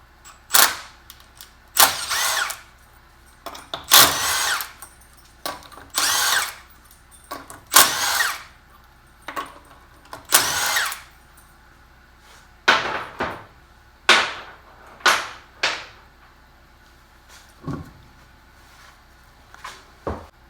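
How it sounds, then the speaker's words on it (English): A 3/8-inch impact wrench spins brake bolts off a 1997-2003 Ford F150 during a front brake rotor and pad job, firing in repeated short bursts of a second or so with brief pauses between, loud and close with no talking. "I can just take them rest of the way off with a 3/8 impact."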